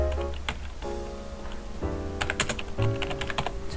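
Typing on a computer keyboard in scattered, uneven clusters of light key clicks, close and fairly quiet, over a steady low hum. No one speaks.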